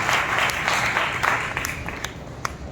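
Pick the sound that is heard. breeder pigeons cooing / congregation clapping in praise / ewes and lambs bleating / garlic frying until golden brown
congregation clapping in praise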